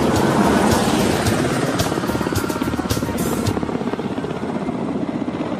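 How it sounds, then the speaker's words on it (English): Ka-25 anti-submarine helicopter lifting off from the deck of an aircraft-carrying cruiser, a loud, close, steady rotor thump and turbine roar with a rapid chopping pulse throughout. "KA-25 submarine Hunter starts off from the deck of the aircraft carrying cruiser to perform a demo flight"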